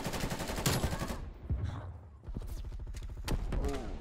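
Sniper gunfire in a video game: sharp, loud shots, some in rapid bursts, with a brief lull in the middle before more firing resumes.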